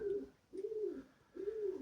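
Perm high-flying pigeons coo in a loft, three soft rolling coos in an even rhythm, close by and fairly quiet with no talk over them.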